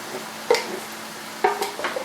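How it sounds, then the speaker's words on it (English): Spoon stirring chili with crushed tomatoes in a pot, two soft scraping sweeps against a low background sizzle, close and quiet. "Give it a little stir."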